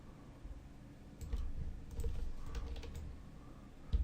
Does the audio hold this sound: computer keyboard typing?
yes